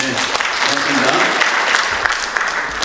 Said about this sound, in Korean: 박수 한번 보내줍시다.